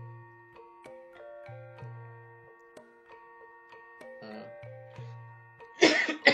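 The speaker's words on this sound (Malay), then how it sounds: "Minta maaf ada gangguan sikit, cikgu batuk sikit." A teacher gives a sharp burst of coughing near the end, close and loud, after a quiet stretch of low humming tones and faint clicks in a math lesson.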